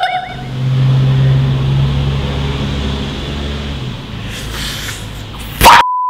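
Road traffic on a street outside a shop, with passing cars rumbling steadily and fairly loud throughout, ending in a brief sharp mechanical clatter and a steady tone.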